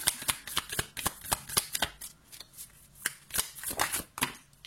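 Tarot cards being shuffled by hand, a rapid run of crisp riffling snaps and flutters, close and clear, with no speech.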